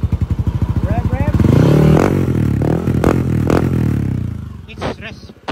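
A motorcycle engine fitted with a JBT version 3 part runs close by, first in a pulsing idle, then swelling into a loud rev that holds and falls away. Voices talk over it, with clatter and scraping near the end.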